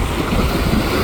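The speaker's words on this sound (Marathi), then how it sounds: "आता मी तुम्हाला धबधबा दाखवतो." A waterfall on the Panjhra river roars as a loud, close, unbroken rushing wash, with no speech over it.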